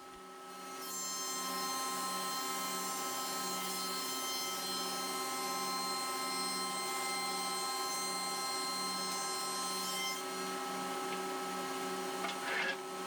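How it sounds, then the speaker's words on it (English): A Grizzly G1033X planer runs through walnut and red oak boards, a loud sustained whine with a steady pulsing hum that ends abruptly as the cut finishes. "take the rest of the time on these test pieces to listen to the planer run in peace"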